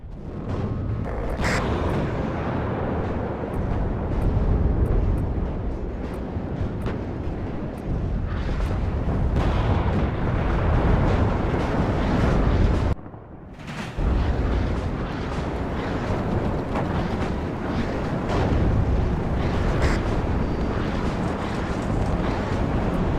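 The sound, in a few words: cluster artillery landing in the video game WARNO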